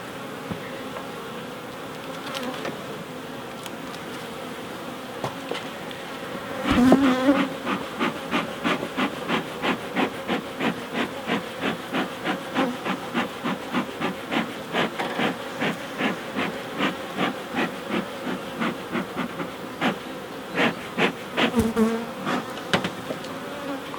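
Honey bees swarm and buzz around an open hive during a mite treatment, a steady close drone with rapid pulsing wingbeats and scattered louder bursts as individual bees pass near.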